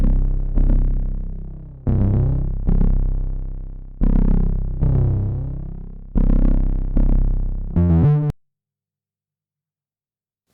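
A synth bass line processed with the Basslane Pro plugin plays as a repeating pattern of loud, decaying bass notes, ending in a fast stuttering flurry, then falls silent for the last couple of seconds.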